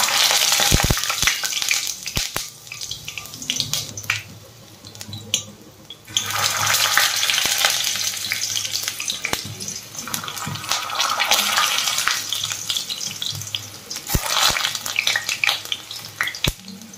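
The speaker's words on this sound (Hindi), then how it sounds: "तो अब इसमें हम टिंडे डाल देते हैं।" Round gourd (tinda) pieces hit hot oil in a kadai, a loud sizzle that swells and eases over many seconds, with sharp clatters of a spoon stirring against the pan.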